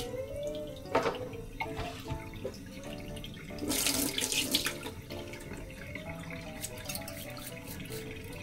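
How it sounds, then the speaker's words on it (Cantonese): A giant local barnacle from a Hong Kong seafood market, crusted with moss and mud, is scrubbed with steel wool under running water. A steady splashing stream is broken by rough scouring bursts, loudest around the middle. "攞個鋼絲擦乾淨佢先"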